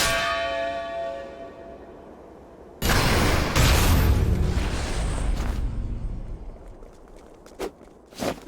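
A deep bell tolls in the Octopath Traveler II video game, a resonant tone that rings out and decays, followed by a loud crashing boom and a few sharp clanks.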